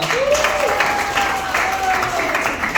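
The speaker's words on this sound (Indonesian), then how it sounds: "Kita tepuk tangan semuanya." Participants at an Indonesian youth training event applaud together, a continuous even wash of clapping filling the hall with a faint tonal whine above it.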